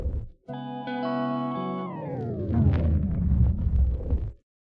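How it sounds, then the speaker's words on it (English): A reverb bomb audio effect preset: a sustained synthetic tone swells, then collapses into a booming, washy burst that rings out in a long reverberant tail before cutting off abruptly. "Reverb bomb."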